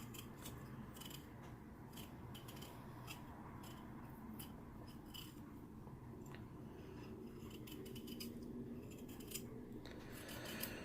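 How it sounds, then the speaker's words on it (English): Vegetable peeler scraping potatoes in a kitchen, a steady run of short rasping strokes, close and fairly quiet, continuing without speech. "Good, I'm using the peeler."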